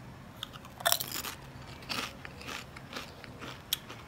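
Someone crunches Sabritas Flamin Hot chips close up, with a few sharp bites at irregular intervals and softer chewing crackles in between.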